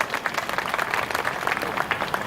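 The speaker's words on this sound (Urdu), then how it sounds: "اس کے لیے تالی بجائیے۔" An audience applauds at a speech event in a university law department, a dense, steady burst of clapping that fills the whole stretch with no voices.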